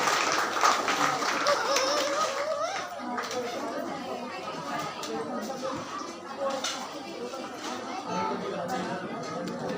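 A church congregation claps and murmurs together in a steady, moderately loud wash of applause mixed with crowd chatter, lasting throughout.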